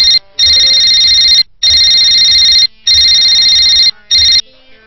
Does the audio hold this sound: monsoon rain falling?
no